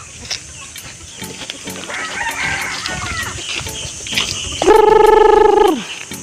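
Chickens on a farm, among them a newly laying hen, cluck and crow nearby, with a loud rooster crow near the end and no one speaking.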